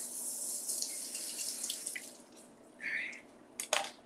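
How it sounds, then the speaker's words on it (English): Butternut squash being rinsed under a running kitchen tap, a steady close hiss of water into the sink with splashes and brief drips as the squash is turned, and no voices. "All right, let's rinse, and we're going to give this a chop."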